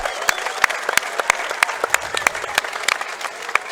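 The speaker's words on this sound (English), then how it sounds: "Round of applause, everybody." Arena crowd applauding at the Counter-Strike: Global Offensive LAN finals in Belgrade's Combank Arena, a dense steady wash of clapping with sharp, loud individual claps popping out, close and continuous throughout.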